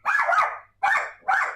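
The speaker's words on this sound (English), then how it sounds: "I'm worried about people watching and the barking in the background" Two house dogs bark sharply three times in quick bursts, close and loud, with brief silent gaps between the barks.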